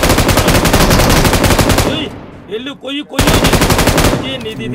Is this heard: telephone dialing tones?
no